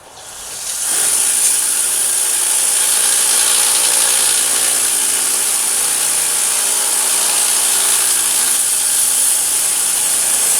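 A Damascus folding knife blade is worked on 1000 grit sandpaper, heard as a loud, steady, close abrasive hiss that starts after a brief moment and keeps going without pause.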